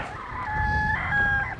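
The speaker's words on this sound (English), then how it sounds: "Chickens out." Chickens clucking and a rooster crowing close by as the birds are let out of their coop on a winter farm morning, a short burst of calls standing alone with no talk.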